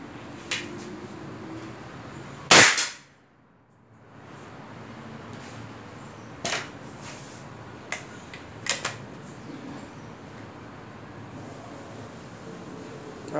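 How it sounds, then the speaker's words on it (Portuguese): A single sharp, loud CBC Montenegro revolver gunshot fired about one metre away, followed by a brief hush, with a few faint clicks and knocks scattered around it. "Vamos lá, um tiro normal, mais ou menos um metro de distância."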